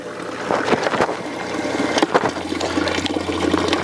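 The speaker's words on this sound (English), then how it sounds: "this pump would keep running 24 hours a day" A water pump runs steadily while siphoning water through a cross siphon setup, giving a continuous gurgling, rushing flow with irregular splashy surges, close and fairly loud with no talking.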